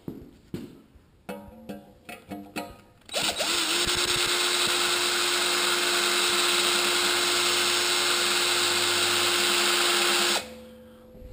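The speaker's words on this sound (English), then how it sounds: "Maybe I'll put this over here and show you how to drill this hole." A power drill bores a hole through the back plate of a 6-inch round retro air filter, starting with a few short bursts, then running in one loud, steady, continuous whine for about seven seconds before stopping.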